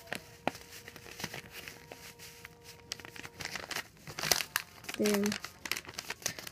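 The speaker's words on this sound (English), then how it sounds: "you want to fold the whole entire paper" Paper is folded and creased by hand to make a paper airplane, with crinkling, rustling handling that rises to a louder crunch near the end; a voice briefly speaks.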